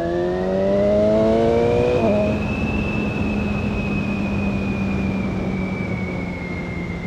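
BMW S1000XR motorcycle accelerating on a mountain road in Andorra: engine pitch climbs steadily, shifts gear with a brief drop, then holds a rising, strong whine over wind rush, close and loud.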